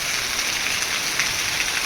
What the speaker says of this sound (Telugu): ఈ పది రోజుల నుండి వర్షం విడవకుండా మధ్యన ఒక ఒక్క రోజు గ్యాప్తోని నిరంతరం కురుస్తూనే ఉన్నాయి